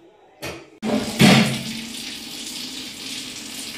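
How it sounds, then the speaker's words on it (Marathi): Water gushes and splashes onto a stove, starting abruptly and then running steadily, close and fairly loud. "आता घेतलेली आहे शेगडी धुवायला"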